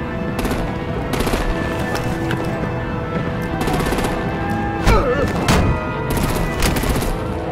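Rapid machine-gun bursts and heavy gunfire in Batman: The Enemy Within, with repeated loud staccato volleys and a few deeper booming impacts, sustained over steady battle noise.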